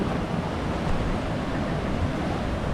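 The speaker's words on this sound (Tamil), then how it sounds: "பாத்தீங்கன்னா தெரியும் நல்லா ஃபோர்ஸா தண்ணி வருது" A waterfall at Kaalikesam rushes forcefully, giving a steady, dense roar of falling water with wind-like noise throughout, loud and close, with no talk.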